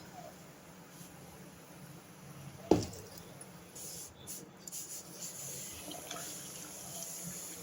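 A pot of water comes to a full boil on the stove before semolina is added for a traditional South Indian dish. Quiet, continuous bubbling and churning runs throughout, broken near the start by one sharp clink.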